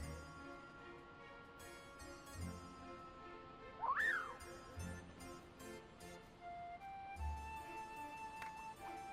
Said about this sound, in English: She blows in a whistle of some sort.